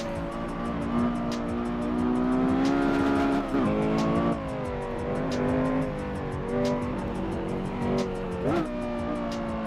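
Porsche Carrera GT in a racing video game, its engine revving and rising steadily with tire squeal as it races, loud and continuous throughout, with a few sharp shifts in pitch.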